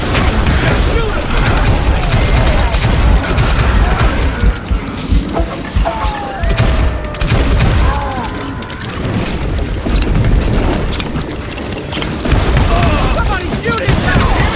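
Gunshots ring out in Call of Juarez: Gunslinger, a Wild West shooter, as loud booming shots and crashes pile up in a dense, chaotic firefight with shouting voices mixed in.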